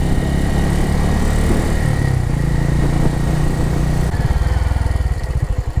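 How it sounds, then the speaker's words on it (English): A motorcycle pulls away from a standstill, its engine note rising steadily as the throttle is rolled on, then a shift up leaves a loud, pulsing, lower-pitched putter close by, with no talking. "Once the friction zone is hit, roll on the throttle."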